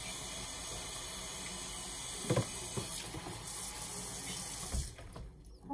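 A tap runs steadily while a dog is bathed indoors, a continuous close rush of water with a few brief splashes and a short fade near the end.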